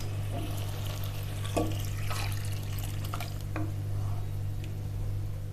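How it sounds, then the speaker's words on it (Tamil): Coconut milk is poured into a pan of rice frying in oil, giving a soft, wet splashing and squelching over a steady low hum from the stove. "நம்ம இப்போது எடுத்து வச்சுருக்க தேங்காய் பாலை இதில் ஊற்றலாம்."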